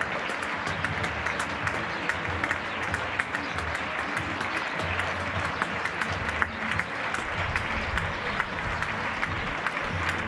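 Neighbours clap from their windows for healthcare workers in Getxo, a sustained crackle of many hands echoing across the street, steady and fairly distant for the whole stretch.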